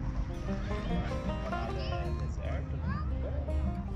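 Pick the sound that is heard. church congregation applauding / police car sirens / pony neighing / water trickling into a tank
pony neighing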